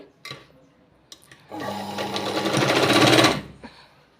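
A sewing machine stitches hook-and-eye tape onto cloth in one loud, close, steady run of about two seconds, preceded by a few short clicks and handling sounds, then stops abruptly.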